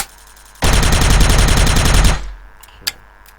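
Sustained automatic gunfire in the video game Special Force on the satellite map, a loud rapid burst lasting about a second and a half before cutting off, followed by a short faint click.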